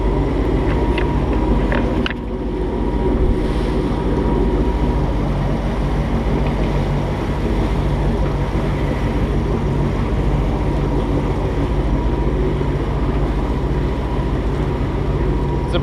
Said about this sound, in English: but we're motoring for now